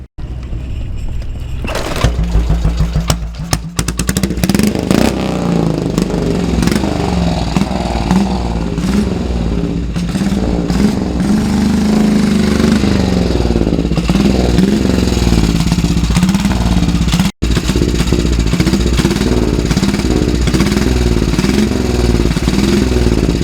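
A 1930 vintage motorcycle engine runs loudly up close at the Classic TT, holding a steady throbbing idle with repeated revs and mechanical clatter for the whole stretch, briefly cutting out near the end.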